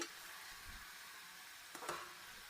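Cut mushrooms are mixed into cooked tomatoes in a pan, a soft sizzle under faint stirring with a couple of brief scraping clicks near the end, quiet and close.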